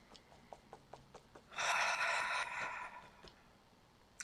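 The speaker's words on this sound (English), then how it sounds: "take a deep breath in" One slow, deep breath is drawn in close to the microphone, a soft airy rush lasting about a second, with a few faint light taps before and after it.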